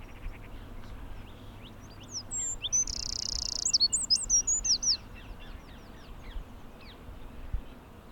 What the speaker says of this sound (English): And singing wrens, I probably get to do these every spring.